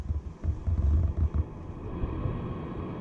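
Gas water heater exhaust running on a 2020 Coachmen Beyond RV, a steady low rumbling roar with some uneven throbbing at the start, close and continuous.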